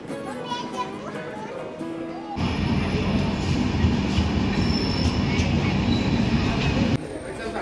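An express train pulls into Chalsa station in the Dooars. After a quieter opening, a loud, close rumble of rolling wagons and wheels sets in suddenly and holds steady for several seconds before easing slightly near the end.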